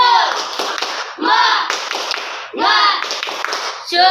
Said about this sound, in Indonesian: sebelum kita mulai kita tepuk semangat dulu boleh?